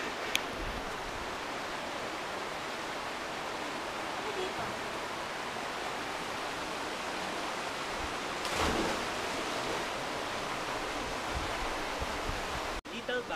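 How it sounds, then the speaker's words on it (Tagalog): Steady broadband rush of river water flowing beneath a bridge near a camp in Bataan, constant and fairly loud throughout with a brief louder swell midway and a sharp knock near the end. "Naririnig nyo ba yun? Sound trip, di ba? Yung lagaslas ng tubig"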